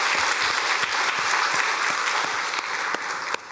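A church congregation applauds during a Sunday service, a loud, sustained burst of many hands clapping with a few sharper claps standing out near the end.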